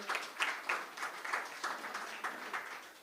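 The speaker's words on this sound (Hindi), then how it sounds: "भरपूर तालियों में इनका इस्तकबाल करें" Audience applause welcoming a speaker at an Urdu mushaira gathering, a thin, moderately faint patter of clapping pulsing in loose bursts for three seconds.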